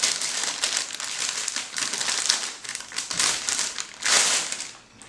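Crinkly plastic cover packaging is pulled and crumpled off an ASUS X79 Sabertooth motherboard box, a close, busy run of rustles and crackles with louder bursts near the end.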